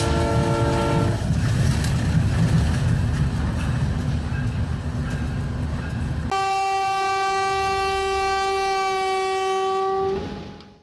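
A train rumbles past with a loud, steady clatter of wheels on rails, then its horn blares in one long sustained chord that holds for several seconds before cutting off.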